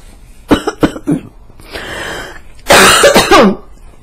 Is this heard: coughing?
yes